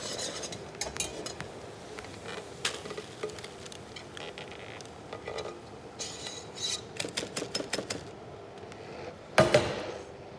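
Bicarb being whisked quickly into hot toffee for honeycomb, faint rapid scraping and tapping of a whisk against a pan in irregular bursts, ending with a louder clatter.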